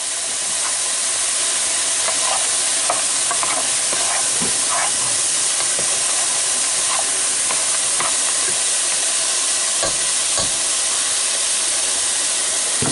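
Vegetables for butter bean soup sauté in a pan, giving a loud continuous hissing sizzle with occasional small crackles and utensil clicks, no voices over it.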